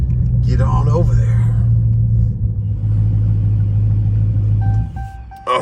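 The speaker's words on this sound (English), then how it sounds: "We gotta warm up this truck first." A heavy-load truck engine warming up, a loud steady low rumble idling throughout with a brief change near the end, while a person talks over it.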